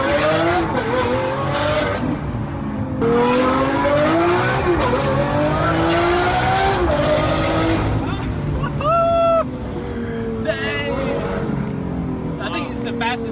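A Mercedes G63 G Wagon launches and accelerates hard, its engine roaring loudly and climbing through gears with rising pitch, heard from inside alongside occasional voices and a brief squeal.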